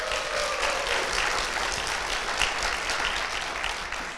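A church congregation claps to welcome a deaconess guest, a steady, full round of applause that lasts throughout at an even level.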